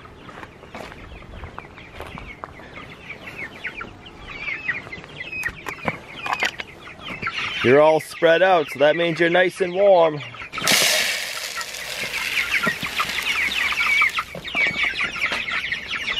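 Meat chickens cluck and murmur in a coop on a farm that also raises pigs, with scattered calls and a burst of busier bird noise near the middle, while a person talks over them.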